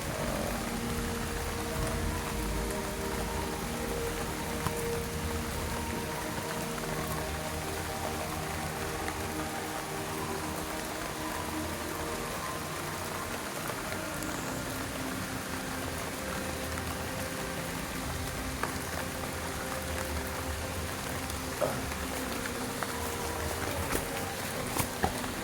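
Steady rain falls through a forest, a dense continuous patter on leaves and surfaces that holds for the whole stretch, with occasional louder drops.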